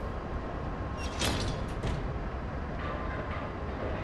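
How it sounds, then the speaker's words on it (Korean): A cable railway tram moving in the Lies of P video game, a steady rumbling hum with a brief sharp metallic screech and clatter partway through, under constant ambient noise. "워라촌에서 트램을 타고."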